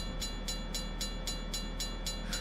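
Passenger train cars, a dining car among them, roll past a railway level crossing; a steady rumble carries a regular rhythm of wheel clicks repeating about every quarter second, loud and close, with no talk.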